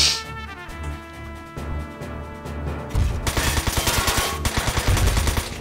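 Rapid machine gun fire from the mech battle game Front Mission 4, with quick rhythmic shots firing in steady bursts and growing louder and denser partway through, heard alone without voices.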